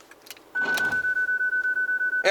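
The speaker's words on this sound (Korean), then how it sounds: "주행 중에 파킹 브레이크를 넣게 되면 드득 소리가 납니다" A brief mechanical rattling grind as a car's parking brake is engaged while driving, then a rapid string of evenly spaced electronic warning beeps that continues steadily until a short clatter at the end.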